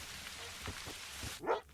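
A hunting dog in theHunter: Call of the Wild barks once, loud and close, over a steady rain-like background hiss.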